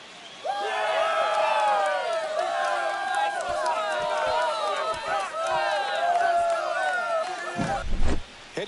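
Stadium crowd in MLB The Show 25 erupting into sustained cheering and whistling after a walk-off home run, loud and continuous, with a thump near the end.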